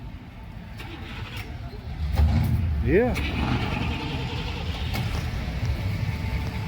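Classic car engines start up and rumble at the Hot August Nights car show, one cranking to life with a rising roar, low idling continuing amid crowd chatter and someone speaking briefly.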